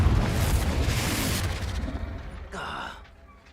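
Fiery Confringo blast spell cast in Hogwarts Legacy, a loud rumbling burst that fades out over a few seconds, with a brief brighter crackle near the end.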